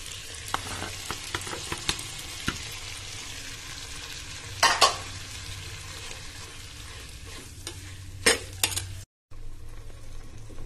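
Pulicha keerai greens are stirred in a clay pot over a steady sizzle, with scattered light clicks and two louder scraping bursts near the middle and end.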